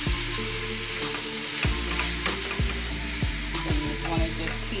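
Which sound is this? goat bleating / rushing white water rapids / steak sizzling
steak sizzling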